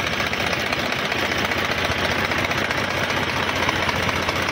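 An HMT 3522 tractor engine runs after a head gasket repair, a loud, steady idle with a rapid knocking chug close by and no talk.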